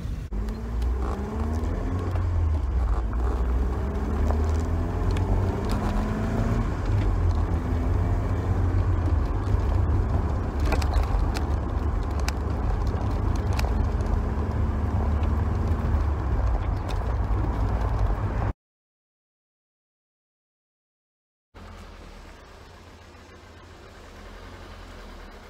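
An MG F sports car's engine hums steadily while driving on the road, a loud continuous drone with shifting pitch from gear changes, cutting out briefly before resuming at a lower level.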